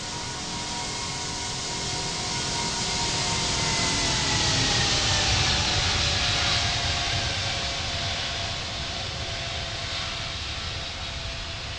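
Heavy jet aircraft at King Abdulaziz International Airport, its engines giving a loud, steady broadband roar that swells toward the middle and eases slightly, with no voices over it.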